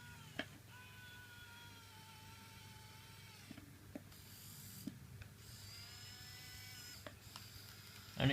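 Small electric motors of an RC Komatsu hydraulic excavator whine steadily at close range, their pitch rising and falling as several functions run at once, with occasional faint clicks.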